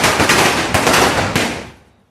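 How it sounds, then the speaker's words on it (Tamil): A string of Diwali firecrackers bursting in a rapid, loud crackling volley, dense close pops that run continuously before fading away into quiet. "முதல்ல பட்டாசு சரவடி ஆரம்பிச்சிட்டோம்"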